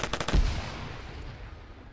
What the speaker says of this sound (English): Kex might have heard those shots.